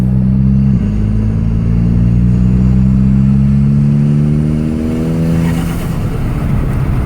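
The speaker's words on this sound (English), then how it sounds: "Just listen for the turbo now." A VW GTI MkV with an APR K04 turbo upgrade accelerating, a loud, close engine note climbing steadily through the gears with one quick shift dip early on, then easing off near the end with a rush of air.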